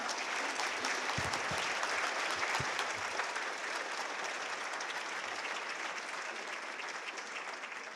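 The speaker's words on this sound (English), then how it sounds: "Folks, let's give Dr. Craig Miller a round of applause." An audience claps in a steady round of applause for Dr. Craig Miller at a workforce education event, dense and sustained, fading slightly toward the end.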